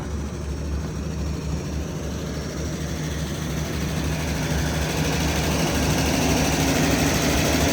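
A River Queen Star Stream houseboat engine idles steadily nearby, a constant low mechanical hum and vibration that holds even throughout.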